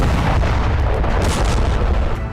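Air strike explosion blowing up weapons warehouses in Lebanon, a sustained heavy roar with deep rumbling booms and blast energy filling the whole stretch, loud and continuous.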